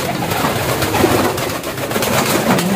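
Pigeons cooing nearby in a loft, with low repeated coos over steady background noise.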